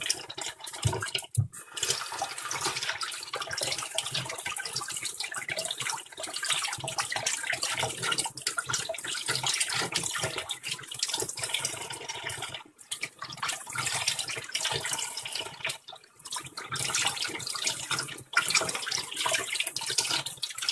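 Running tap water splashing steadily into a sink while spinach is washed, a continuous close hiss with small breaks and no talk.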